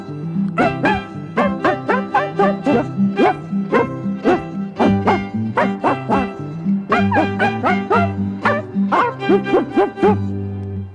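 A singer in a children's song imitates a dog with a long run of rhythmic, yappy barks, about two to three a second in loud bursts over steady musical accompaniment.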